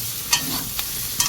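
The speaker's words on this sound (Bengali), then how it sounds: "এই হচ্ছে কাঁচকলা উচ্ছে একসাথে ভাজা" Green banana and bitter gourd frying together in a little oil give a steady close sizzle, with a few sharper spits and pops breaking through.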